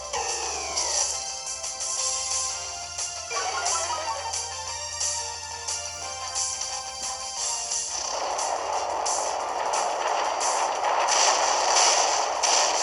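Earthquake attack during a Pokémon Moon Battle Spot battle, heard as a loud, continuous game rumble with layered crashing effects that swell into a dense roar in the second half, with no voices.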